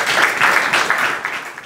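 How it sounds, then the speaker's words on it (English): An audience at a talk breaks into loud, close applause. The dense clapping swells in waves and fades slightly toward the end, with no voices over it. "A big round of applause for Marianne."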